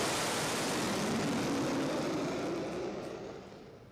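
Indian Air Force fighter jets pass low over the Ganga Expressway near Shahjahanpur at night. A loud, broad jet roar fills the air and fades gradually toward the end.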